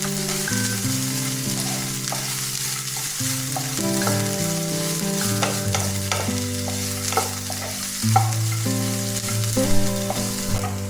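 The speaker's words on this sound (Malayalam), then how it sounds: "ഉള്ളി, ക്യാരറ്റ്, ബീൻസ് എല്ലാം ഞാൻ അരിഞ്ഞ് വെച്ചത് ഒരുമിച്ച് ഇട്ട് കൊടുക്കുകയാണ്." Chopped onion, carrot and beans fry with mustard seeds in a pan, giving a steady close sizzle with occasional stirring scrapes under background music.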